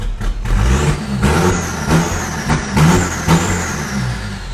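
A car engine fitted with an electric throttle controller set to speed mode revs hard and close, with repeated rising and falling surges over a steady, loud mechanical drone.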